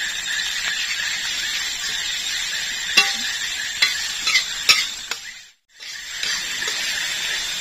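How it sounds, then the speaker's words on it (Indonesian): Shallots, lemongrass and bird's eye chilies sauté in a pan with a steady, close sizzle, broken by a few sharp stirring clicks and a brief dip to near silence before the frying resumes. "Ini kita tumis bawang sama sirai dan juga cabainya."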